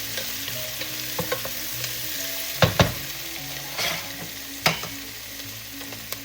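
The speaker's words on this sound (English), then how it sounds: "All right, let's start sautéing that." Pork neck bones sautéing in a pan, a continuous close sizzle and fry with occasional knocks and scrapes of a utensil stirring the meat.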